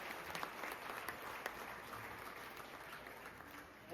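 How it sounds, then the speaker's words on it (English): Audience applause for a board member at a 40th anniversary event, a soft, even patter of many hands heard from a distance that continues for several seconds and fades at the close. "Round of applause for Greg"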